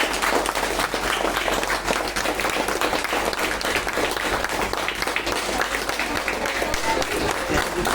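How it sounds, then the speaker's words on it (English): An audience at the Visvesvaraya Industrial and Technological Museum claps along, producing dense, continuous applause that stays steady and fairly loud for the whole eight seconds. "clap along with me"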